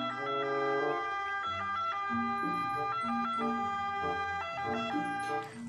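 Toy ambulance siren wailing steadily in a repeating two-tone electronic pattern, loud and close, with no talk over it.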